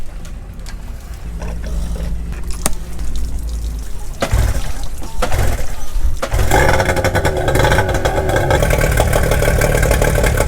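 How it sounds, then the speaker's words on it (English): A small outboard boat motor, unused for over a month, sputters into life and then runs steadily at close range, its buzzing drone mixed with splashing water. "We're gonna try to start the outboard that was here without using for over a month."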